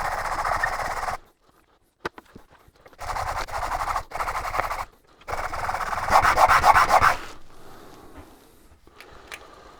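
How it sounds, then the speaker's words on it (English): A wooden segmented piece is sanded flat by hand in close, raspy scrubbing strokes, three separate bouts broken by short pauses and a couple of light knocks, the last bout more rapid and louder before fading out. "So that's now sanded back flat."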